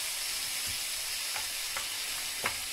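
Cherry tomatoes for a Spanish omelette sizzle steadily in a hot frying pan, a continuous close hiss broken by a few soft stirring clicks.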